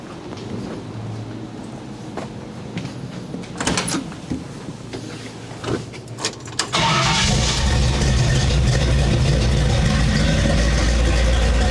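A 1970 Ford Falcon, first quiet clunks and a door or latch thud, then the engine cranks and catches, settling into a loud, steady rumbling idle close by.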